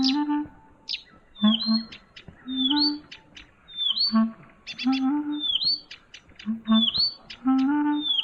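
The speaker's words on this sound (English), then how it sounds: "You can start playing with a Blythe's reed warbler, and it just doesn't stop." A Blyth's reed warbler sings a lively, nonstop song of repeated chirps, whistled upslurs and buzzy notes in quick phrases with short gaps, clear and close.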